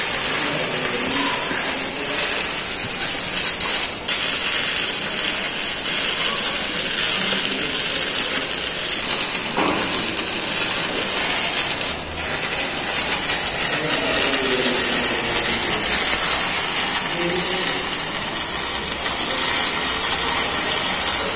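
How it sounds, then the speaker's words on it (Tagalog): Arc welding with an E6011 rod in flat position, a continuous harsh crackling sizzle with sharp pops, loud and steady throughout. "E6011 ang gamit yung welding rod ngayon dito. Kaya kakaiba yung tunog, masyadong masagitsit ang E6011."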